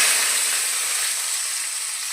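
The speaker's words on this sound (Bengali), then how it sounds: "মাছ ভেজে নিচ্ছি।" Pabda fish seasoned with salt and turmeric fry in a pan, a loud, constant hissing sizzle that stays level from start to finish with no talking.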